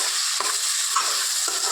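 Tomatoes cook in a frying pan with capsicum, giving a steady hiss and sizzle, and a spoon gives about three stirring scrapes, close and alone without speech.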